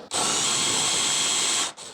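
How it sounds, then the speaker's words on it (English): A power drill boring a hole for a cam fitting in a wooden handrail, one steady high whine lasting about a second and a half, close and loud, then stopping abruptly. "Here I am drilling the hole for the cam."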